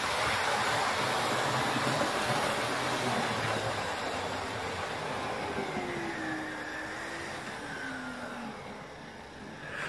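A model diesel locomotive rolls into a station, a continuous broad rushing hum with a faint wavering motor whine that holds steady for about ten seconds, then eases slightly near the end.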